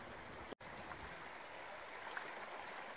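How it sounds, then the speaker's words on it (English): The Pere Marquette River flows in a faint, steady wash near the bank, a soft continuous rushing with a single brief dropout early on. "Can you hear the water moving?"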